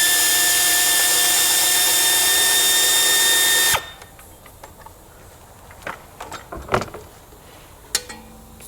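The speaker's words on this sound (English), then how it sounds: "I'm gonna remove the studs just like that." Power tool spinning off alternator mounting studs on a Ford 500, a loud whirring drill run for about four seconds that stops abruptly, followed by faint metallic clicks and handling noises.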